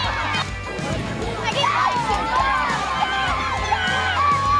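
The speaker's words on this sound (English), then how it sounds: "We're cheering" Children cheer and shout in a noisy crowd at a school kickball game, a steady, excited roar with high whoops rising over it throughout.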